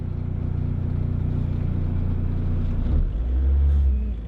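A manual-transmission car engine revs under a learner's throttle, a steady low rumble climbing as gas is given, then surging into a louder, deeper roar near the end; close and alone, without voices.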